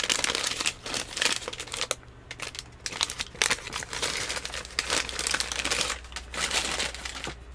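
Oil paper wrapped around a cookie crinkles and crackles in continuous bursts of handling, close and fairly loud, with a low steady hum underneath and no talking.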